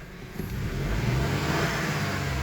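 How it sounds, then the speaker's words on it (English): A Vauxhall Corsa 1.2 petrol engine with a camshaft phaser fault revs up sluggishly, a close steady engine drone that swells slowly and holds, with no talk. "The engine's very slow to rev."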